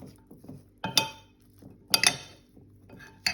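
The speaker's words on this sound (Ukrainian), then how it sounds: "Так, я розмішую з сиром." A few sharp clinks of a spoon against a bowl while stirring cheese into a radish and green onion salad, spaced irregularly with quiet scraping between, close and fairly soft.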